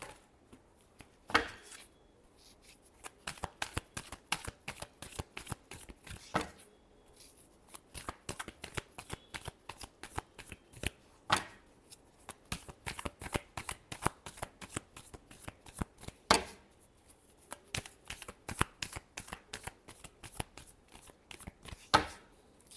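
Tarot cards being shuffled by hand, a long run of rapid riffling flicks in irregular bursts, close and fairly quiet with no talking.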